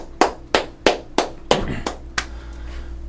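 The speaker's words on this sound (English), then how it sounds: "Let's give Jeff a round of applause." About seven separate hand claps in a slow, uneven rhythm, each sharp and close, from a small audience during an animation critique webcast, with a faint steady hum underneath.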